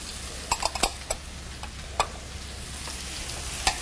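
Diced leek and carrot frying in a pan as the base for a lobster bisque, a steady close sizzle broken by several sharp clicks and taps of a utensil against the pan.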